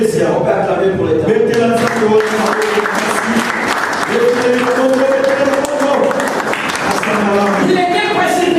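A church congregation applauds continuously, loud and close, a steady wash of clapping with voices calling out over it throughout.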